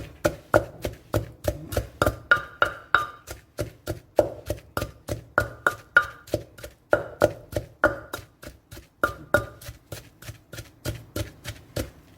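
Garlic is pounded in a mortar with a pestle in a rural Thai home kitchen while a steamed fish dish is made, giving steady, close, evenly paced thuds that run on without a break and with no voices.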